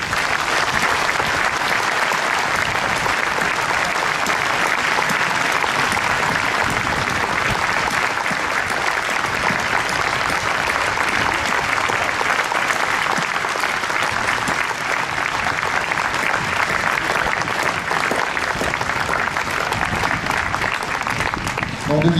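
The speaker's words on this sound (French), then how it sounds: "Je pense que nous pouvons longuement les applaudir." Long, sustained applause from a church congregation at a Pentecost Mass in Landévennec, dense and steady at close range for the whole stretch, with no voice over it.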